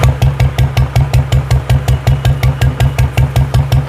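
Royal Enfield motorcycle engine fitted with a Mini Punjab exhaust, a hollow straight-pipe silencer, idling with a loud, steady, rhythmic thumping beat and clattery pulses, close up with no talking.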